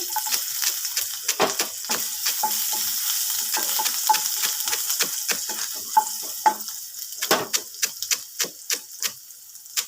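Chopped ginger sizzles and spatters in a hot pan while being stirred, with frequent sharp clicks and scrapes of the spoon that grow more distinct toward the end; no one talks.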